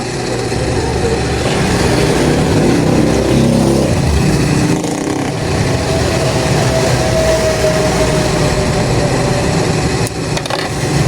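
A high-speed motor of an overlock sewing machine runs steadily, a loud continuous whirring drone held throughout with slight shifts near the end.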